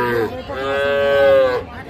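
A single bovine lets out a long, loud, close moo that swells and then fades at a cattle market where heifers and young bulls are sold, heard without voices.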